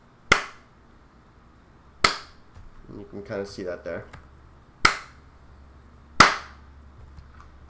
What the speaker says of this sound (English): We received the clap.